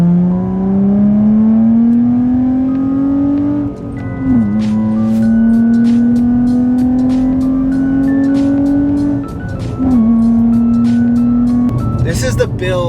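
A G35/350Z with an ISR Performance single GT exhaust roars loudly, its engine pitch climbing steadily, dropping briefly twice as if shifting, then climbing again, with a raspy, resonant exhaust tone up close.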